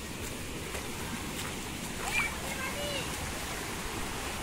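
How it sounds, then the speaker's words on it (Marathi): Water rushing and gurgling through a swollen rural stream in the Konkan countryside, a steady broad roar that stays close and constant throughout with no breaks. "ज्याची आपण वाट बघत होतो त्या व्हाळाचा खळखळीत पाणी हे दिसता मंडळी बघा. किती छान आवाज."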